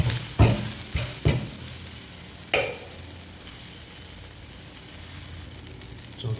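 Bottle gourd dosa batter sizzles steadily on a hot pan, a continuous close frying hiss broken by a few sharp metallic clacks of a spatula against the pan.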